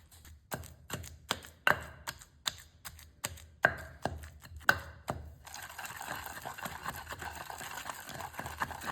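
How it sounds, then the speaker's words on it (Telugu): Green chillies with salt being pounded in a stone mortar, a steady series of sharp thuds roughly twice a second, close and distinct, then giving way to a softer continuous grinding rustle. "పచ్చిమిరపకాయలు కూడా మనం మెత్తగా దంచుకుందాం"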